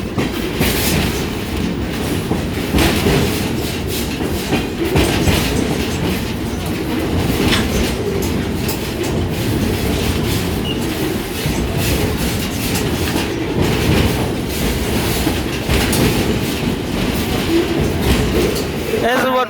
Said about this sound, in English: This is what real trains sound.